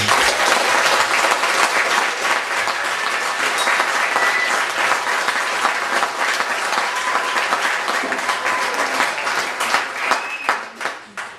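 A school audience applauds a children's theatre group, loud, dense clapping that runs steadily throughout and starts to thin out and trail off near the end.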